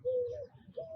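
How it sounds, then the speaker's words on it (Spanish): A bird sings in short cooing, dove-like calls, two clear notes close by with a brief pause between them, heard alone without talk. "El que quiera disfrutar el canto de los pájaros no necesita construir jaulas, sino sembrar árboles."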